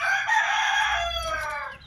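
A rooster crows once, close and loud, its drawn-out call among chickens fading after nearly two seconds.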